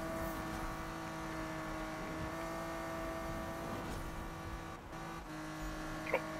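A Lamborghini in Need for Speed drones with a steady, moderately loud engine hum and whir, holding an even pitch throughout with a brief dip near the end.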